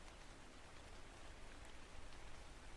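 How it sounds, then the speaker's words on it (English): Steady rain falling in the video game ARK: Survival Ascended, a dense, even hiss of drops that runs unbroken from start to end at a moderate level, with no voices. "It's actually raining right now, so that might be really good."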